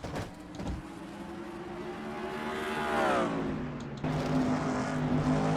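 Engine drone of NASCAR-style race trucks at Monza, including the number 3 Goodwrench Chevrolet, sustained and rising in pitch through the middle, loud and steady, with no talk.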